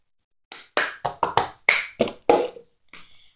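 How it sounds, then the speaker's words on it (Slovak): Cup song rhythm played by hand: a plastic cup lifted and set back down and hands clapping in a quick series of about eight sharp, close taps and claps, with no voices. "Nadvihnete pohár a dáte ho zase na zem."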